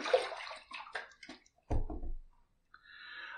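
Razor rinsed under a running tap between shaving passes, a short burst of splashing water followed by a few clinks and drips, close and fairly quiet, with no talk.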